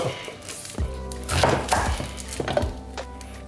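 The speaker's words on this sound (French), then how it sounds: "Donc vous allez couper l'échalote" A kitchen knife chops a shallot on a board, with several uneven thuds and cuts close to the microphone and no talking.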